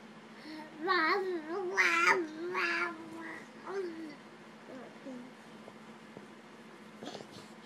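A cat meows a few times in short, rising calls, with a person's voice talking softly around them.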